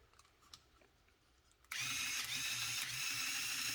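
A small LEGO Power Functions electric motor in the 42039 24 Hours Race Car set switches on abruptly and runs with a steady, loud whirring drone, close by and alone.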